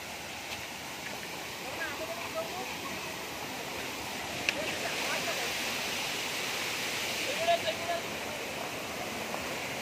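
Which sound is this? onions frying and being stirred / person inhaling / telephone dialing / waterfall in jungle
waterfall in jungle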